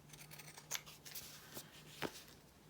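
A few sharp snips of scissors trimming fabric edges, close and quiet, spaced irregularly with soft rustling between cuts.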